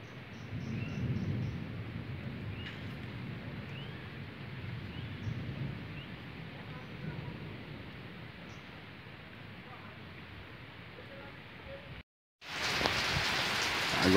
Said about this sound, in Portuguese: Agora sim, pessoal, trancou tudo de chuva.